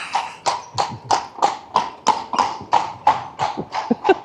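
Horse hooves clip-clop on a cobbled street in Bruges, loud and close, a brisk, even rhythm of sharp strikes roughly every half second with no other sounds.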